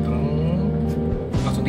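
A tuned 2015 Toyota Avanza Veloz engine drones steadily under acceleration, a continuous low hum with a brief shift in pitch near the end, heard from inside the car.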